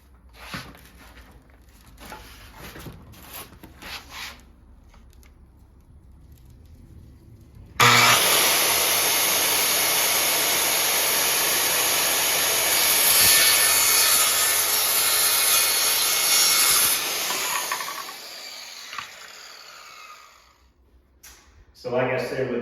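A hand coping saw cuts through a wooden baseboard with continuous rasping strokes up close, lasting about ten seconds after quieter handling noises, then fading out.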